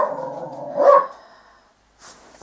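A pet dog barks once, close and loud, in a house, followed by a brief softer yip after a pause.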